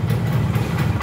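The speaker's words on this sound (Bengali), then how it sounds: "এখন আলহামদুলিল্লাহ নগদেই স্টার্ট নিয়ে নিচ্ছে" A Yamaha RX-100 motorcycle engine runs after starting, a loud, close, steady throbbing idle with no talk.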